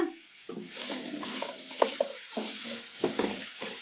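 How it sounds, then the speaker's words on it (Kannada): Chopped potatoes tossed into hot oil and stirred, giving a continuous frying hiss with several sharp spatula scrapes and taps against the pan, close up and without speech. "ಈಗ ಇದಕ್ಕೆ ನಾವು ಆಲೂಗಡ್ಡೆಯನ್ನು ಕಟ್ ಮಾಡಿ ಇಟ್ಕೊಂಡಿದ್ವಲ್ಲ ಸಣ್ಣದಾಗಿ, ಆಲೂಗಡ್ಡೆಯನ್ನು ಹಾಕೋಣ. ಈಗ ಕಲಿಸ್ಕೊಂಡ್ಬಿಡೋಣ."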